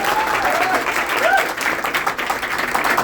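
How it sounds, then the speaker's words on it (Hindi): Loud, sustained applause from an audience at a training session, steady and dense throughout with a few faint whistles over the clapping. "एक बार जोरदार ताली होनी चाहिए।"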